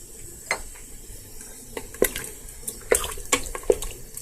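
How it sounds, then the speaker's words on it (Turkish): Boiling water splashes and trickles into a metal pot of meat and peas, with scattered clinks and knocks of cookware between pours; close and fairly quiet. "Ben bir bir bardak kadar daha su ilave edeceğim."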